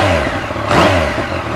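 A motorcycle engine fires up and revs briefly, a loud, close burst of rising and falling engine roar.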